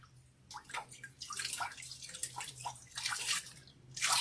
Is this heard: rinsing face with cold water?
yes